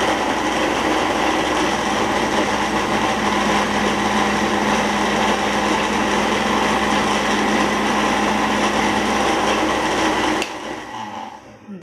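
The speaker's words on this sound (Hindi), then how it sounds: "ये देखें दाल हमारी अच्छे से ग्राइंड होगी।" Soaked lentils grind in an electric grinder, giving a loud, steady, dense motor whine with gritty churning that runs unbroken for about ten seconds before the motor cuts off and spins down.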